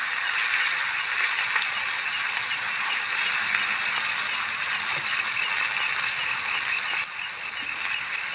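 Shrimp and chili fry in a hot pan outdoors at a campsite, giving a loud, continuous sizzle with scraping and rattling stir strokes throughout.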